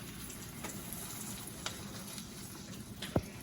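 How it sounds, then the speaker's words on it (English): Liver searing on medium high in an iron skillet: a steady, quiet sizzle and crackle of frying with a few sharp pops and a brief utensil scrape near the end, no voices. "I'm going to cook this on about medium high until I can get it seared on both sides with a nice brown crust"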